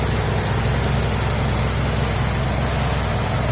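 A Mitsubishi Lancer GLI with an all-manual setup and mismatched parts idles roughly, its engine shaking: a steady, loud low rumble holding constant throughout, with no voices.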